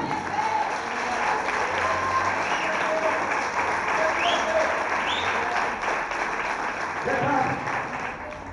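A church congregation applauds Jesus with sustained, dense clapping that fills the hall at an even level for several seconds before tapering slightly, with some voices mixed in.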